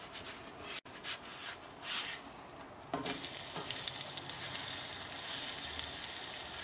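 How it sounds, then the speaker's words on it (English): Once flipped, a besan cheela (chickpea flour pancake) sizzles in a pan. After a soft scrape it settles into a steady, close frying hiss that grows louder partway through and continues without speech. "Now I'm going to try flipping it."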